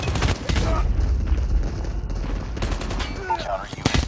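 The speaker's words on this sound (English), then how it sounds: "Sentry gun deployed." Sentry gun firing in a video game, a dense burst of rapid automatic shots and booms running throughout, loud and close, with game voice prompts layered over the gunfire.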